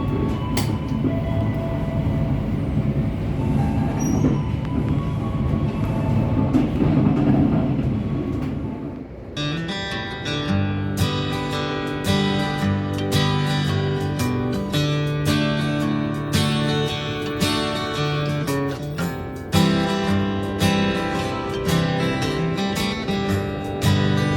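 An Indonesian passenger train departing Yogyakarta station rumbles along steadily with a dense, continuous roar, and a sharper rattling, clattering texture builds in after the first few seconds.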